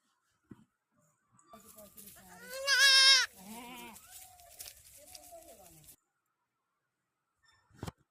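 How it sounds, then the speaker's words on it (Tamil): A goat bleats in a short burst of strained, wavering calls, loud and close, followed by softer trailing bleats, then quiet with a couple of faint clicks. "ஆடு."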